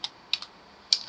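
Computer keyboard typing, a few quick crisp key clicks in a short irregular burst, close and clear with no talking.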